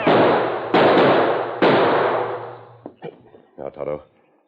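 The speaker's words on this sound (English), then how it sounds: "Someone shooting behind large rock on side of canyon." Gunshots echo in a canyon as a radio drama sound effect for a Lone Ranger episode, three loud close cracks with long ringing reverberation, followed by smaller clattering knocks that fade out.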